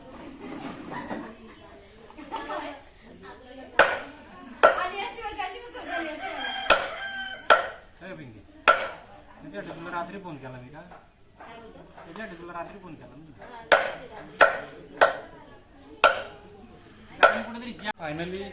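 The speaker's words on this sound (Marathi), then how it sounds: "हो कोंबडा कापायला घेतलाय" Heavy knife blows chop through chicken meat in sharp, unevenly spaced strikes while people keep talking throughout.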